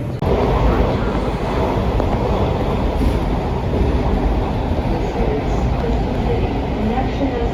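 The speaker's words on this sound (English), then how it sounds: "This is the Blue Line train." A Washington Metro Blue Line train in Arlington, Virginia rumbles loudly and steadily from up close, a dense continuous roar of wheels and motors with no pauses.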